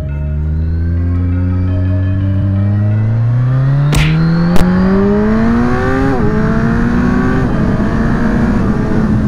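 A Kawasaki Z1000 motorcycle pulls hard at full throttle, its engine note climbing steadily through several quick quickshifter upshifts, loud and close with wind rush.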